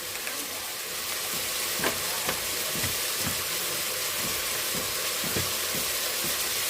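Tomato and green chillies frying in a pan with a pinch of turmeric, a steady close sizzle broken by regular soft scraping strokes of a spoon stirring at an even rhythm.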